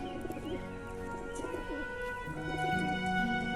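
Pigeons coo in a steady run of soft, rounded calls, close and fairly loud, with no talk over them.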